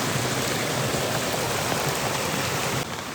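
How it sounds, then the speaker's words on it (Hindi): Rainwater running out of a dense forest during a downpour, a steady broadband rushing wash of rain and flowing water that holds loud and even throughout, with no voices. "किस तरह से पानी आ रहा है जंगलों से।"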